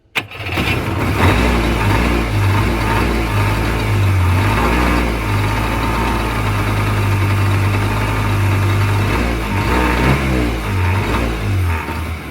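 An old 1989 Yamaha WaveRunner engine cranks and catches, then runs roughly and loudly with uneven revving and sputtering, close by.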